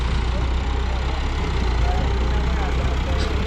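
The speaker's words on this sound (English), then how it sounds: "the tractor is coming right now with material" Tractor engine rumbling as it arrives hauling a load of building material, a steady heavy low drone that stays loud throughout.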